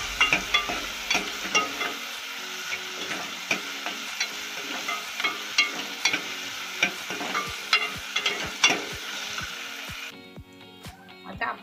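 Onion sautéed in oil for Malvani-style mutton sizzles steadily while a spatula stirs in rhythmic scraping knocks, close and clear, with brief clinks as the sizzle drops away at the end.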